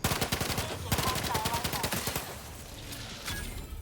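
The player's favorite gun in Outer Worlds 2 fires a fast, steady automatic stream of loud, close shots for about two seconds, followed by a short pause and a few more scattered shots.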